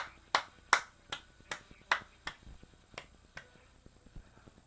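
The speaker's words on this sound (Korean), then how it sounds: "박수부터 시작합니다. 이 손바닥에" Bare hands clap in a steady rhythm as a warm-up joint exercise, about ten sharp claps in a row that fade from loud to softer toward the end, with no talking.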